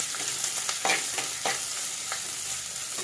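Onions and bird's eye chillies sauté in a pan for a thoran, a close, continuous sizzle punctuated by several quick spatula stirs and scrapes, no voices.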